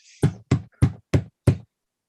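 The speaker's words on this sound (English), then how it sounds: "I hear a knocking at the south entry." Five loud, evenly spaced knocks at a door, solid hollow thuds about a third of a second apart, close and clear against near silence with no talking.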